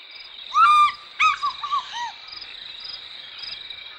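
On an African Great Lakes shoreline, a fish eagle gives one loud, ringing yelp followed by a few quicker, fainter call notes, over a steady whine of insects.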